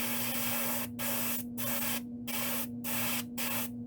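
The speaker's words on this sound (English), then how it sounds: "I took that blue and I sprayed over the back and let it fade down the sides slightly here" Blue paint is sprayed over the back of a wooden trout lure in five or six short hissing bursts separated by brief pauses, close and fairly loud over a steady background hum.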